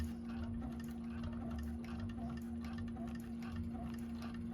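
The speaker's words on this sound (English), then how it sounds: "And then just sew straight right off." A 1341 cylinder arm sewing machine runs a straight seam on a bag, giving a steady close motor hum with fast, even ticking throughout, no voices.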